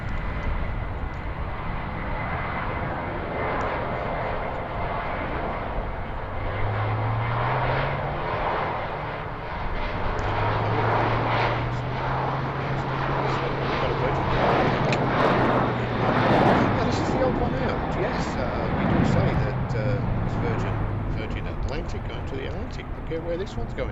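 An airliner starts rolling at Heathrow Airport, bound for Amsterdam. A steady, loud jet engine roar runs throughout, with someone talking over it.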